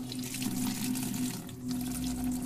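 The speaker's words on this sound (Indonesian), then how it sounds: "aku pun mendengar suara keran air yang menyala dari dalam" Water runs steadily from a tap inside a toilet room, a continuous close hiss and splash that holds evenly with a brief dip midway and no voices.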